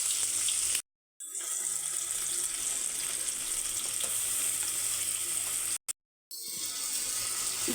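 Ginger-garlic paste sizzling with tomatoes in a pan, a steady close crackling hiss broken by two short silent gaps.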